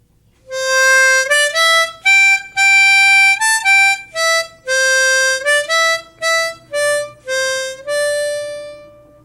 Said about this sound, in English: Probably the simplest song to play on the harmonica is "Oh Susanna."